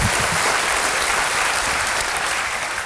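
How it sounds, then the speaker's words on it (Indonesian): A church congregation at a Sunday service claps loudly and continuously, a thick wash of hands with no voices over it. "Berikan tepuk tangan kita untuk Tuhan kita."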